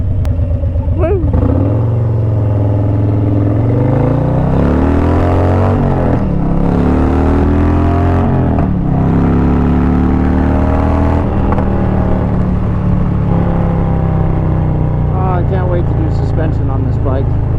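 A 2023 Harley-Davidson Road Glide ST engine pulls loud and close while riding, its pitch sweeping up and down through gear changes over a constant roar of wind.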